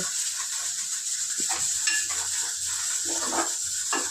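Asafoetida hits hot oil in a pan while eggplant bharit is being cooked, a steady bright sizzle with intermittent stirring scrapes and a few utensil clinks against the pan.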